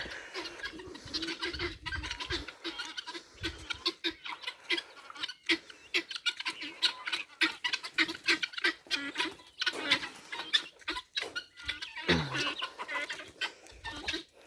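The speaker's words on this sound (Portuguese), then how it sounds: "Até as galinhas do homem é doida." Farmyard chickens at a countryside smallholding cluck continuously and close by, with busy overlapping calls and short bursts of activity throughout.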